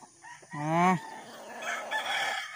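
A fighting rooster crows once in a backyard, a loud, close, rising and falling call lasting about half a second, followed by faint clucking and background yard noise.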